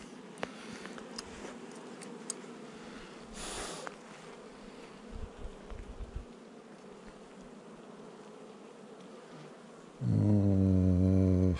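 Honeybees buzzing around an open hive during a March inspection, a steady close hum with brief handling noises, then a louder droning burst near the end.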